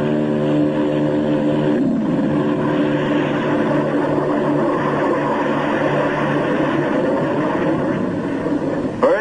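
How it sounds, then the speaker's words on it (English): A propeller aircraft on Admiral Byrd's expedition takes off with two JATO rocket bottles firing, producing a loud, steady, unbroken roar of engines and rocket thrust that holds for the whole stretch with no voices. "In the critical 10 seconds of takeoff, they give the kick-up of two added engines."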